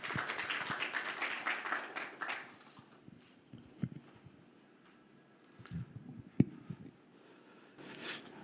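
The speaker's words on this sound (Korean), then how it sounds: "큰 박수로 환영해 주시면 감사하겠습니다." An audience at a Busan Technopark business briefing claps to welcome a speaker, a burst of applause at moderate distance that fades after a couple of seconds into scattered claps, taps and room noise.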